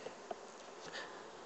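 Honeybees hum in a soft, faint, steady drone at an opened hive while a frame is being worked, with a few light knocks.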